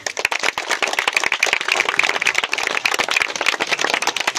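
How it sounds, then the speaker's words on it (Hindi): An audience claps steadily at a ceremony honouring Brijesh Rajbhar for selfless work in education, a dense, continuous patter of many hands close by with no voices over it. "ताली बजाओ बाबू।"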